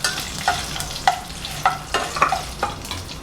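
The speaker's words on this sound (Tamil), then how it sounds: "ரெண்டாக கட் பண்ணி வச்சுருக்க மிளகாயை போட்டுக்கலாங்க" Halved chillies and curry leaves frying in hot oil with mustard seeds for a traditional Tamil tamarind broth, a constant close sizzle punctuated by regular spatula scrapes and taps, with no talk.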